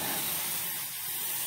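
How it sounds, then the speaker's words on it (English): A cheap Harbor Freight spray gun sprays primer onto a rusty 1994 GMC Stepside pickup roof, giving a steady broadband hiss that continues loudly and evenly with no talking. "I guess I didn't clean it out very good because it's not spraying very good."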